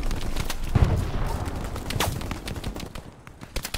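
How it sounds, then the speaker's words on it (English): Gunfire from a Hell Let Loose battle, with a heavy blast near the start that fits a tank firing, followed by scattered distant shots and crackling combat noise throughout. "Is that a tank shooting?"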